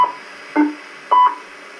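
Kenwood TS2000 transceiver on the GB3WR amateur radio repeater, giving two short clear electronic tone bursts a half second apart over a faint steady hiss, no talking.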